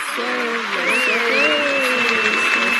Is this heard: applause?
yes